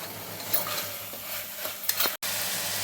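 Bottle gourd curry fries over high heat in a pan, giving a steady sizzle broken by a few scraping stirs. It stops in a brief silent gap near the end, then the sizzle resumes, close and moderately loud, with no talking.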